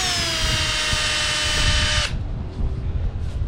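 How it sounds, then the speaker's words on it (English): A power drill fitted with a 3/8 bit bores through plastic on a fifth-wheel RV. The motor whines loud and steady for two seconds, then cuts off, and low background rumble remains. "this is just plastic, so it should be pretty easy to drill through"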